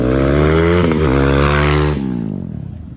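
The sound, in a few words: motorcycle engine revving at bike stunt event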